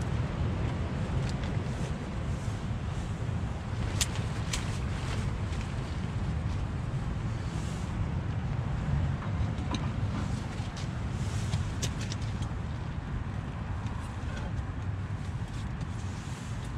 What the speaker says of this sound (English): Wind's getting up now as well.